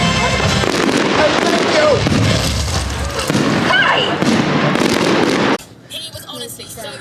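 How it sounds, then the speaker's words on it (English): Bonfire Night fireworks at Blackpool Pleasure Beach in winter, heard as dense crackling bursts and booms that end abruptly, followed by quieter crowd noise and a brief spoken voice. "We've just had the fireworks, and I have to say, I think they were better than last time."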